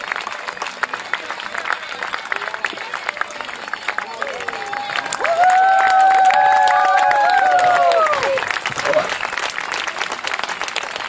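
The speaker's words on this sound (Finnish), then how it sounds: "Kiitos, olet aivan mahtava yleisö. Kiitos aplodeista ja kiitos hurrauksesta." An audience at a medieval horse tournament in Hollola, 2024, claps steadily throughout, and a burst of cheering and whooping swells in the middle while a voice speaks over the crowd.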